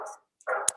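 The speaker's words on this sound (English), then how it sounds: "so there was the bark" A dog bark sound effect for a stop-motion scene of a dog chasing a cat: two short, clear barks in quick succession, close and dry.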